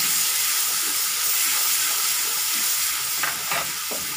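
Ginger dropped into spices frying in oil with coriander powder, for dhaba-style green pea kachori filling, a loud continuous hiss and sizzle with a few scraping stirs near the end, no voices.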